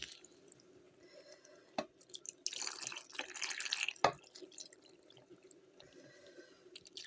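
Cabbage broth pours into a pot in a splashing stream for a couple of seconds, with a few drips and small clanks around it in a quiet room.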